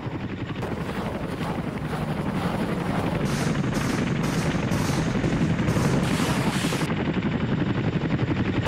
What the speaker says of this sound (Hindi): MI-8 हेलीकॉप्टर है जिसने ये हमला किया है